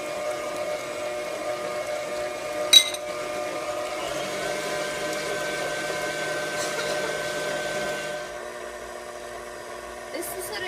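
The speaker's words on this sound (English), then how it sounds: "Whisk those up until stiff peaks form" An electric mixer whisks on low speed for key lime pie topping, a steady close motor whine that runs about eight seconds, changes pitch, then drops off, with a brief clatter early on.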